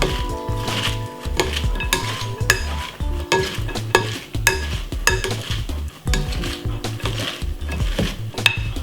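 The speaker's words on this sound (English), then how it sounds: "let's give it a lovely little mix up like this" Chicken chow mein being stirred and tossed in a pan, with repeated scraping and clinking of a utensil against metal over a steady sizzle, loud and close with no talking.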